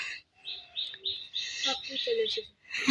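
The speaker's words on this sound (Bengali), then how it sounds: "সব কবুতর এসে পড়েছে" Pigeons, including racing birds, chirp and call in a steady flurry close by, with a voice talking over them throughout.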